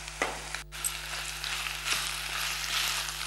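Vegetables seasoned with pepper sizzle and fry in a pan for an Italian veggie bake, giving a steady, even hiss broken by a couple of light clicks.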